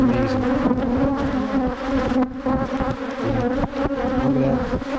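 Honey bees buzz loudly and close during a honey harvest, a dense droning hum that wavers in pitch as individual insects fly near and away.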